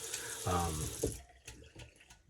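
A shaving brush is rinsed under running water, a short splashing gush that quickly fades, followed by a few faint clicks and knocks in a quiet room.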